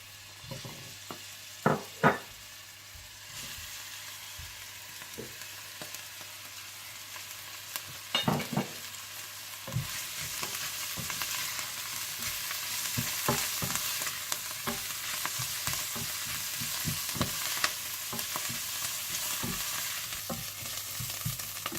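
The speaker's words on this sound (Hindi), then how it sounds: "ऑयल गरम हो जाए तो आप इसमें प्याज, सेलरी और लहसुन के जवे डालकर 3 से 4 मिनट के लिए सौते कर लीजिएगा" Onion, celery and garlic sizzle and fry in hot olive oil, with a steady crackling hiss that builds over the clip. Occasional stirring clicks and scrapes sound through it, and no one speaks.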